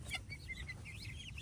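Chickens in a backyard coop peck at scattered worms, making soft, close clucks and light chirps over a steady low background hum.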